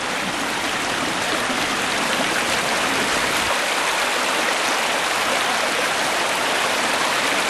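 A stream at Culbone on Exmoor, Somerset, rushes in a loud, steady, close broadband wash of flowing water that stays unbroken throughout.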